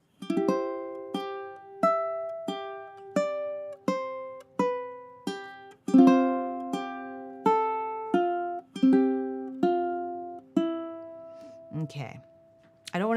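Ukulele plays a chord melody, strummed chords struck one by one at an even, unhurried pace, each ringing and decaying, with a voice briefly speaking near the end.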